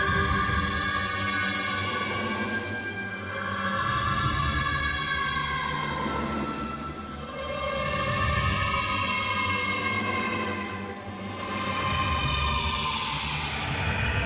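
A theme song slowed down 800% becomes a droning, eerie wash of stretched tones that swell and fade in slow waves, with no voices.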